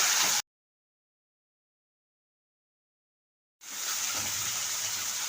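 Water poured off boiled potatoes, a loud close gush that breaks off into silence and then resumes as a steady splashing pour.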